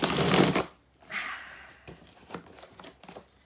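A parcel being opened for an unboxing, with a loud burst of tearing, rustling packaging at the start followed by softer crinkles and scattered small handling clicks, close up and without talk.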